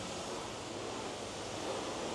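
A pressure washer lance sprays a greasy excavator with a constant, dense hiss of water, steady and fairly close with no pauses, and no voices heard.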